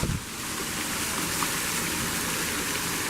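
Forest waterfall in Boulder Canyon, Vestavia, Alabama: a steady, close, full-bodied rush of falling water, a broad constant roar with no voices over it.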